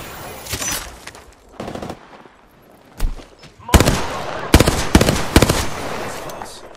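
Automatic gunfire from the battle royale game Apex Legends crackles in several loud bursts, short volleys separated by brief pauses, with a voice speaking faintly underneath.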